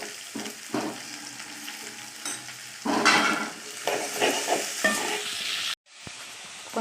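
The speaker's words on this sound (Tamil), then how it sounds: "நல்லா வதக்கணும். வெட்டி வச்சுருக்க கோவக்காய் சேர்த்துக்கலாம்." Sliced ivy gourd sautés in hot oil in a pan, a steady sizzle with scraping stir strokes and clinks of a utensil, rising louder midway before a brief silence near the end.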